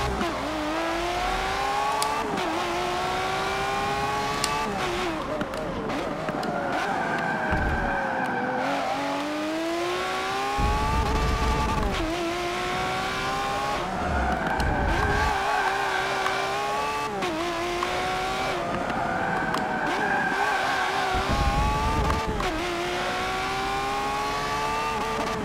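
A Lamborghini Aventador LP700-4 V12 screams around a track in Forza Motorsport 7, revving up and down through repeated gear shifts with brief tire squeals, loud and continuous throughout.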